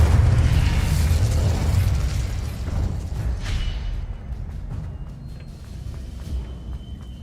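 A fire spell cast in Hogwarts Legacy gameplay bursts out as a loud, dense whooshing boom that rolls on and slowly fades over several seconds, with a few faint crackles trailing off.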